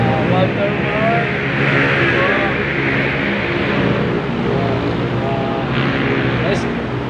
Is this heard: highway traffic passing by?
yes